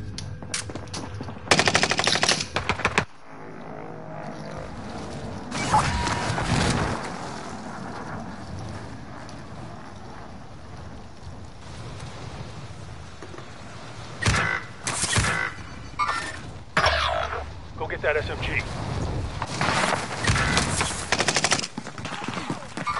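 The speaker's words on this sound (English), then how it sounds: "Stop shooting at me." Video game gunfire comes in several separate bursts of rapid automatic shots, loud and close, broken by quieter gaps filled with background game noise.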